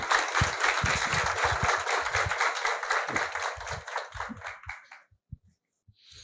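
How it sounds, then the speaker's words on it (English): Listeners at a spiritual discourse on the Mandukya Upanishad clap together in a lively patter that gradually thins and fades into a few last isolated claps before silence. "Yes, please clap for yourself."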